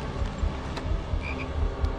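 A chocolate frog croaks in the PS2 game Harry Potter and the Chamber of Secrets, low repeated croaks pulsing steadily and close over a couple of seconds.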